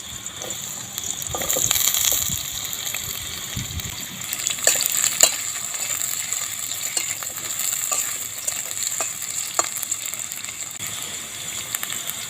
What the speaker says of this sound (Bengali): কড়াতে দিয়ে দেবো তেল আলুর টুকুগুলো তেলের মধ্যে দিয়ে দেবো